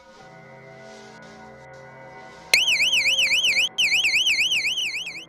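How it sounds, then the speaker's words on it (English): Home burglar alarm set off at night, a loud warbling electronic siren that rises and falls quickly, starting abruptly after a quiet stretch with steady tones, breaking briefly and then resuming close by. "He triggers the alarm and it sends the men fleeing."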